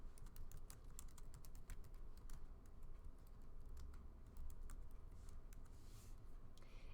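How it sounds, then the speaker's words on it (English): Quiet, steady typing on a computer keyboard as a short reminder message is entered: a continuous patter of soft key clicks over a low background hum, close and unhurried, with no voice. "So in here, I'm going to type my reminder."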